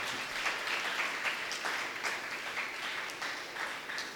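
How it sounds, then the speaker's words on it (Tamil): Audience applause in an auditorium at the opening of a renovated hall, a steady, dense wash of clapping hands from a sizable crowd lasting several seconds. "எனவே அதுக்கு ஒரு கைத்தட்டு நம்ம கொடுக்கலாம்."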